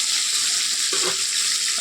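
Loud, steady frying sizzle from a pan, a continuous hissing crackle with a brief stirring clatter midway.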